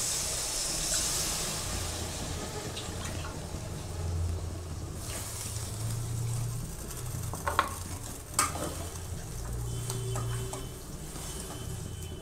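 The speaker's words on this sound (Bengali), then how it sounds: "এখন আমি জল দিয়ে দেবো।" Hot egg curry with potatoes keeps up a steady fry and hiss in the pan, with a spoon scraping and stirring now and then, near and without voices.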